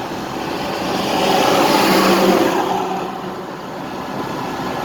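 Steady, loud road rumble of a one-ton pickup truck towing a gooseneck trailer loaded with a farm tractor at highway speed, engine droning with broadband tire and wind noise that swells and eases slightly.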